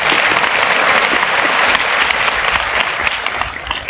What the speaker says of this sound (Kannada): ಇನ್ನೊಂದ್ಸರಿ ಜೋರಾಗಿ ಚಪ್ಪಾಳೆ ತಟ್ತೀರಿ?